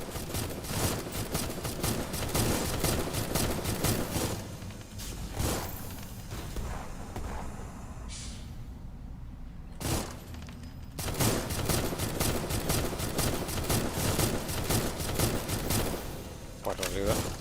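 Rapid gunfire in the video game Armored Core, dense bursts of machine-gun-like shots filling most of the stretch, pausing briefly before resuming loud and continuous, with a person talking at times.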